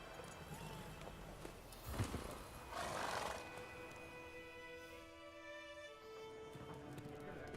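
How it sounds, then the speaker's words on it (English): A horse in The Witcher 3 gives a whinny amid the clop of hooves, set against an ambient game soundtrack with steady tonal background music. "Perdona, ¿qué hace el caballo ahí?"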